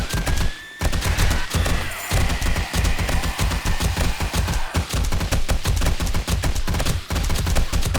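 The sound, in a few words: gunfire with HP rounds in video game 7 Days to Die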